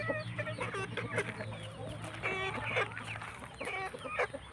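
Several chickens, about six to seven months old, cluck repeatedly over a steady low hum, with short bursts of clucking scattered throughout.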